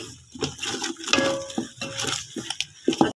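A spoon scrapes and clinks against a pan while stirring a sweet mixture of almonds, walnuts and milk, making irregular close metallic taps and scrapes.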